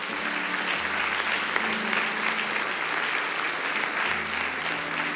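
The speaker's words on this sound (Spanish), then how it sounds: "un caballero más, un aplauso" A church congregation at a Spanish-language sermon applauds in a steady, even wash of clapping for about five seconds, with a low sustained tone humming underneath.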